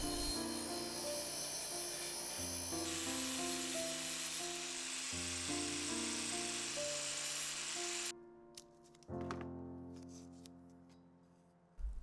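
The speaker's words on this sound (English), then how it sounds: "I clean up the rose with a wire wheel and do a final shaping with the angle grinder." A wire wheel and an angle grinder clean up and shape a welded metal rose, giving a steady high whine with shifting pitch, a brief pause, then renewed grinding. Close and continuous, with no talking.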